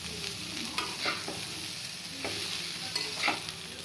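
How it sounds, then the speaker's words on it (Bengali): Cauliflower and potatoes fried with salt, turmeric and a little sugar are stirred in a pan, giving a steady soft sizzle under several scraping strokes of the spoon, moderately close with no talking. "চিনিটা যাতে কফি আলু এগুলোর সাথে লেগে যায় সেই জন্য নেড়ে নেব।"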